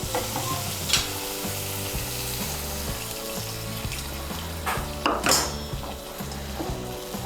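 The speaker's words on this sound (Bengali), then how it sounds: "এর মধ্যে আমি দিয়ে দিচ্ছি 1 কাপ নারকেলের দুধ।" Coconut milk being stirred into sizzling masala in a pan for a Bengali Shahi Katla Kalia fish curry, with a loud steady sizzle and scraping stirs over background music.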